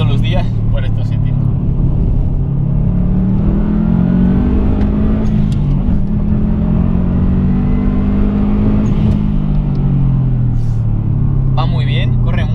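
A Subaru WRX STI drives through curves, its engine rumbling loudly and constantly as it accelerates and eases off, pitch rising and falling with each bend. Someone talks over the cabin engine noise.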